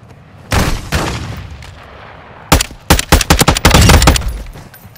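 Gunfire in the video game DMZ: a few loose shots early on, then a rapid cluster of loud, sharp bursts trading back and forth up close, with no talking over it.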